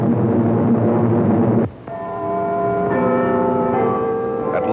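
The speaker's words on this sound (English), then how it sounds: "At last, the bells have tolled." Church bells in England toll with sustained, ringing tones that follow an abrupt cut from an earlier loud passage and hold steadily to the end, with a faint hum beneath.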